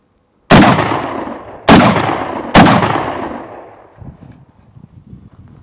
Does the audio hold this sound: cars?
no